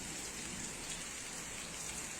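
Steady rain pours down during a thunderstorm in Los Andes, Chile, a dense, even hiss of drops on surfaces with no pauses and no voices.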